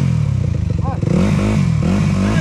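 A motorcycle engine revs loudly and close by on a dirt trail ride, with a rough, pulsing throttle that rises and falls and mechanical clatter underneath.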